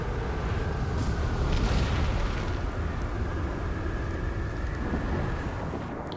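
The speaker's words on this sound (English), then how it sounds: "I hear a storm coming" A steady, heavy rumble of rain and distant thunder rolls on without pause in the video game Outer Wilds, a dense storm wash with no voices.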